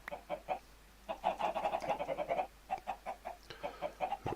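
Chickens cluck over and over in the Minecraft Agrarian Skies modpack, a steady overlapping run of rhythmic game-animal clucks heard clearly with no talk.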